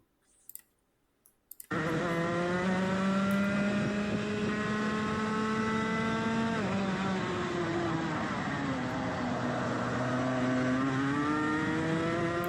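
A go-kart engine at full throttle down a long straight on a kart track, a loud steady high-pitched drone with slowly rising pitch, briefly dipping once as it shifts load, after a few faint clicks at the start.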